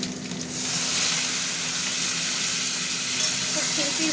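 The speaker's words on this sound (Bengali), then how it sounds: "এবার দিয়ে দেবো আলুগুলো।" Potatoes dropped into hot oil with black cumin and green chillies set off a sudden loud, steady sizzle after a quiet start, frying close by with faint stirring.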